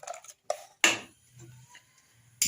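A metal pot set down on a stove top with a few clattering, clinking knocks, one louder clank near the middle, followed by quiet pauses and small scrapes in a home kitchen while hair oil is being prepared.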